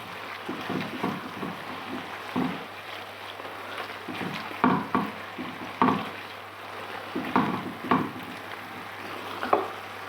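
White mushroom curry frying and being stirred in a pan, with irregular scraping and stirring bursts over a soft, steady frying hiss at close range, no talking.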